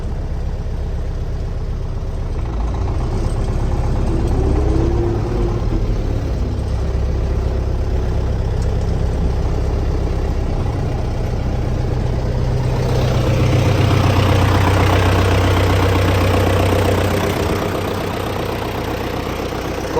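A 2021 MTZ tractor engine runs steadily with a low, rumbling drone that swells slightly partway through, heard close and continuous without any voices.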